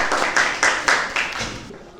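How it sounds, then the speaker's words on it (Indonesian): Clapping for a group about to present in a class, a handful of distinct, loud claps at a steady rhythm, close by, with a few voices underneath, thinning out toward the end. "Tepuk tangan untuk kelompok 2."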